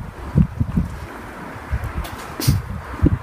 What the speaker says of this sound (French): c'est une très jolie rafale